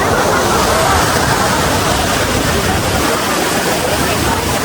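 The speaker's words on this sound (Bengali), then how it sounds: "এখান থেকে জল পাস করছে, পুরো নিচে কি লেভেলে জল নামছে দেখো" Water pouring down from a reservoir outlet during a monsoon drive in Odisha, a loud, continuous roar of rushing water filling the whole clip without pause, close and dense with no voices.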